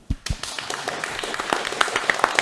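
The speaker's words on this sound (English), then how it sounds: "Can we clap?" A small group of people claps up close, starting with a couple of sharp hits and settling into a scattered, irregular patter of hands.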